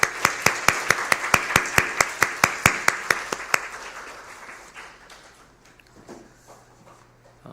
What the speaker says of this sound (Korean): 우리 뒤돌아서서 인사하실 때에 다시 한번 큰 축하의 박수 해주시기 바랍니다.